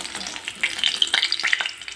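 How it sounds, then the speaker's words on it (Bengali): Fish pieces, slit lengthwise and cut at an angle, frying in hot oil for a Bengali fish curry, a steady close sizzle with crackling bursts and faint stirring, no talk. "এবার এদিকটাও বেশ সুন্দর করে ভাজা হতে থাক।"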